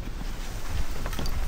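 Strong, relentless wind at an outdoor site in New Zealand during drizzle, a loud rushing roar buffeting the microphone with gusty swells and no speech.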